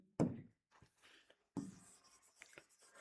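Pen or chalk writing out a math solution, a couple of sharp taps followed by quiet scratchy strokes, close and soft with no talk.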